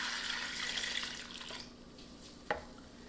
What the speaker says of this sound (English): All right, and then I'm gonna pour this in.